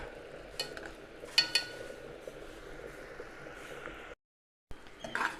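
Onions and paste sautéed over moderate heat in a heavy pan, a steady low sizzle with scraping stirs and a few sharp clinks of a spoon against the metal, stopping briefly near the end.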